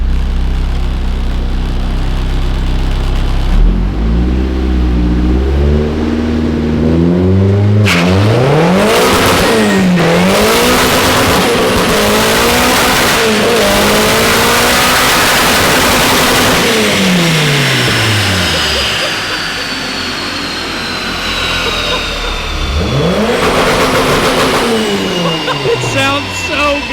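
A four-cylinder car on a dyno revs hard through repeated sweeping pulls, engine pitch climbing and falling, loud and close, with a shift and a final rev near the end.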